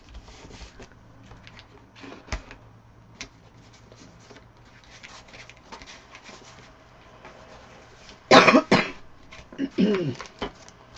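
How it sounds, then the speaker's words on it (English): After quiet rustling and faint tapping, a loud close cough bursts out, followed a moment later by another rougher cough. "I still got a cough."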